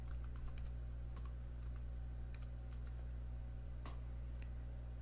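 Typing on a computer keyboard while setting up an appliance hostname. Quiet, irregular key clicks sit over a steady electrical hum, with no talk.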